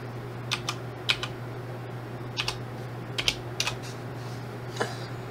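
Text is typed on a computer keyboard in short bursts of quick clicking keystrokes, separated by brief pauses, close and moderately loud over a steady low fan hum.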